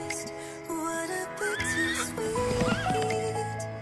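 A horse whinnies loudly with a wavering, rising-and-falling neigh, accompanied by hoof clops and background music.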